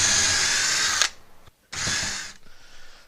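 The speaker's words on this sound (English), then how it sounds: "To make life easier, I'll pre-drill." Power drill pre-drilling holes in a wall to mount a whole-home water filter, a loud high-pitched whirring burst for about a second, then a short pause and a second shorter burst trailing off.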